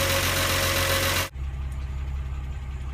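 A Wolseley car engine idling as it warms toward normal temperature, a steady low rumble that follows a loud broadband hiss which cuts off abruptly partway through, leaving the engine's even drone alone.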